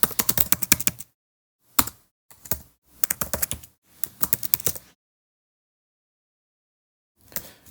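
Keys clatter on a computer keyboard in quick, close bursts of typing separated by short pauses, with a longer silence before a final short burst.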